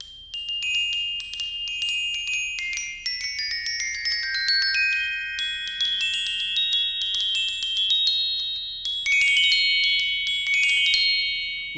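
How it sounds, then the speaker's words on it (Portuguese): A glockenspiel with metal keys plays a quick melodic run of bright, bell-like notes, each ringing and overlapping the next, close and clear throughout. "Este é o glockenspiel. Tem teclas de metal e um som bastante brilhante."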